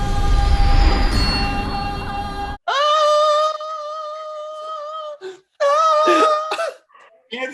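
Wonder Woman coughs in Zack Snyder's Justice League: a harsh, noisy burst is followed by strained, voiced coughing and throat sounds in uneven bursts with short pauses between them.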